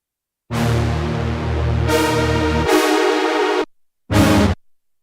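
Thick, buzzy distorted synthesizer chords from two stacked detuned superwave oscillators on an Arturia MiniFreak, played as a few loud sustained notes with abrupt stops.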